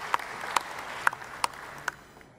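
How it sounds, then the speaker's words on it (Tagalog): Sparse applause in a congressional session setting, with five or six distinct sharp claps spaced about half a second apart over quiet room noise, faint and thin rather than a full ovation. "Palakpak!"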